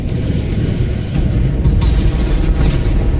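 Ship weapons fire in a video game as a dense, continuous rumble of booming blasts, loud and sustained, with a couple of brighter impacts rising above the roar.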